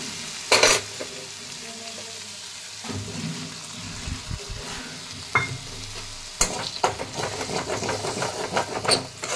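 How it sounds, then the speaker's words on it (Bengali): Spice paste frying in oil, being stirred and cooked down in a pan, with soft sizzling and intermittent scraping clatter, quiet and close. "এবার মশলাটাকে আমার ভালো করে কষতে হবে। যতক্ষণ তেল ছাড়ছে ততক্ষণ আমি কষে দিতে হবে।"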